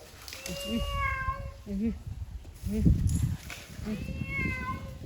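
Several cat meows, high and drawn out, come in a loose series of about four calls, fairly close, with a person talking underneath.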